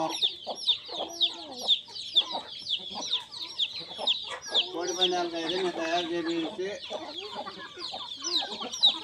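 Constant clucking and chirping from a flock of country chickens on a poultry farm nearby, with someone talking through the middle of it.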